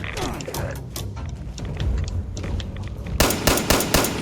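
Gunshots in Fallout 76, sharp repeated cracks with mechanical clicking and ratcheting between them, ending in a louder cluster of rapid shots close by.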